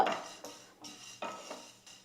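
Sesame seeds, lentils and black pepper dry-roasted for a moringa-leaf dosa podi, stirred in a metal pan with a utensil, giving a few scraping, rattling strokes at an uneven rhythm, close and moderately loud with no talk.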